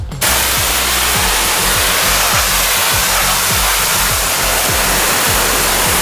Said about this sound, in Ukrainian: я ніколи ще не мив смартфон кьоркером